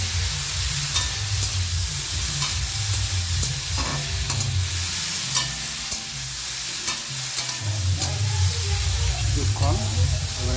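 Boiled kochu stolons being stirred and fried in a pan, a steady close sizzle with scraping stirs of the spatula throughout, no voices.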